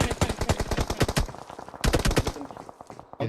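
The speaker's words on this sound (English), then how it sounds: "You can hear the gunfire all around him" Automatic rifle fire in the PUBG Mobile game, rapid sprays of sharp, punchy shots in several bursts with a brief pause near the middle, loud and close.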